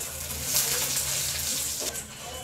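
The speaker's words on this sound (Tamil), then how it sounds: "இப்போ இது எல்லாத்தையுமே கொஞ்சம் நேரம் வதக்கிடலாம்." Cinnamon, star anise, cardamom and cloves sautéing in hot oil in a pan for a country chicken curry, a soft steady sizzle with faint stirring, alone and without talk.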